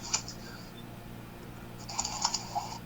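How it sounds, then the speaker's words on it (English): Fast typing on a computer keyboard comes in two quick bursts of light clicks, separated by a short pause. The clicks are quiet and nobody speaks. "I'm typing way too fast today"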